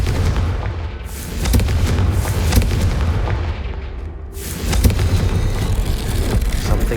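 Confringo fire spell bursting in Hogwarts Legacy, heavy booming blasts with rumbling low-end impacts and crackling debris, loud and close over game ambience.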